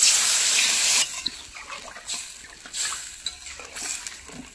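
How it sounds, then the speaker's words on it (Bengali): Water pours from a half-full pot into a curry in a pan, a loud gushing rush for about a second, followed by softer bubbling, clinks and stirring noises. "এবার আমি জল দেব, এবার আমি হাফ ঘটি মতো জল দেব।"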